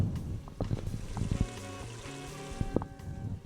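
A pot of Ethiopian lentil sauce (misir wat) bubbles and simmers quietly, with soft continuous gurgling and small scattered pops.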